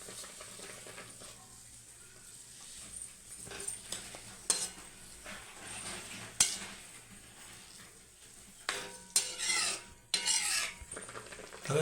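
Dudhi halwa with milk and sugar being stirred in a pan in a village kitchen, with a spoon scraping and clinking against the metal in irregular bursts over a low simmering background, growing louder toward the end.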